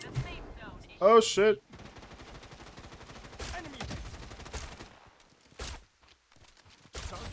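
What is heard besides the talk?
gunfire in video game Project Blood Strike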